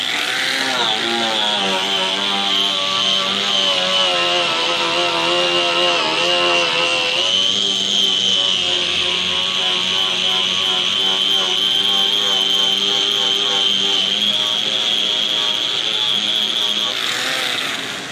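A power tool strips paint from a car trunk lid, its high-pitched motor whining steadily and loudly for the whole stretch, the pitch dipping slightly as the abrasive bites into the metal.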